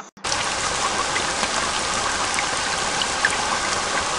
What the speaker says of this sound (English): It rained on Meg and her bed.